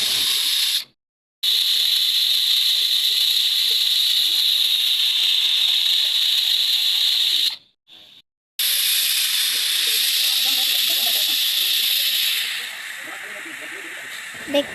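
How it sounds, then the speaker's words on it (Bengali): Loud, steady high-pitched hiss of a pressure cooker cooking mung dal, venting steam, broken by a couple of brief silences, then continuing with a whistling tone. "যেহেতু প্রেশার কুকারে সিদ্ধ বসিয়েছি তাই বেশি সময় লাগবে না তিন সিটি দিলে আমরা নামিয়ে ফেলবো"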